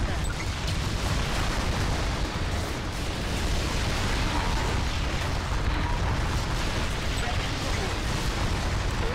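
A super weapon detonating in the real-time strategy game Forged Battalion, a sustained, loud, rumbling blast roar filling the whole span with dense low-end boom and crackle.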